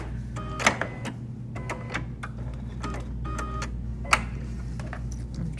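A Bernina sewing machine stitches through fabric for a bag in short bursts of rapid mechanical chatter separated by brief pauses, with a couple of sharper clicks, heard close and without speech.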